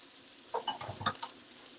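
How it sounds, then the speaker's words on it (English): Food sautéing in a pan on a stovetop, a brief burst of stirring and scraping with soft sizzle and small utensil clinks in the middle of otherwise quiet room tone. "All right, so we're just sauteing this up."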